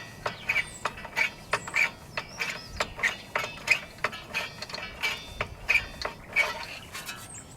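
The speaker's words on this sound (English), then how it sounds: "So I'm catching the star and I'm prying upward." A tool prying upward on the star wheel of a Nissan Altima parking brake adjuster, giving a steady run of sharp metallic ratcheting clicks, close and fairly loud, roughly two or three per second with no talking.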